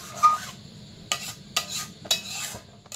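Palm fruit pulp being mixed with water by hand in a bowl: soft wet rubbing and squelching strokes repeating in short bursts, close and fairly quiet.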